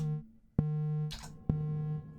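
A sustained electronic tone comes from an Empress Zoia effects pedal set to vibrato, broken by two sharp attacks and a brief noisy burst between them. It is close and steady, with no voices.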